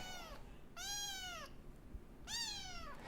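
A cat meows three times in short, drawn-out calls, close and clear, with quiet gaps between them against a faint background.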